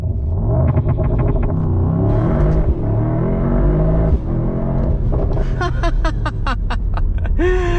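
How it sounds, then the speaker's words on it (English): A Mercedes-AMG GT launches under launch control in drag race mode, its engine roaring loud and close as it accelerates hard through rapid upshifts, each gear change a brief dip before the revs climb again. "We are in drag race mode, and off we go."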